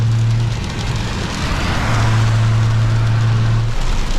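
Heavy thunderstorm rain drums on a BMW 335is driving a freeway, a loud dense wash over the steady drone of the car, with a low hum coming and going.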